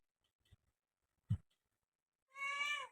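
A cat in a quiet Assam village home gives one short meow near the end, after two soft thumps in otherwise near silence.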